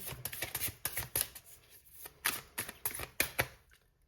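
Advice cards drawn and handled from a card deck during a French love-guidance reading, giving a series of crisp papery flicks and shuffling snaps, fairly close but soft, with no talking.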